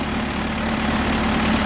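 A John Deere 450C dozer's diesel engine idles close by with a crankcase flush mix of half oil and half diesel, a constant low rumbling drone with no talk.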